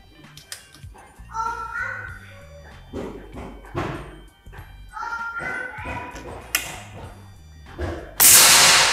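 A single sharp, loud shot from an SR Ironforce air rifle bursts out near the end, after a stretch of people talking.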